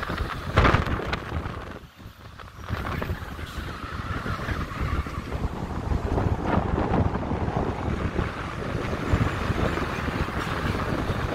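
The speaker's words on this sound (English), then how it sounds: "the wind is so powerful right here" Strong wind buffets a camera microphone during an evening walk beside a ring road in Elland, producing loud continuous rumbling gusts with a brief lull near the start.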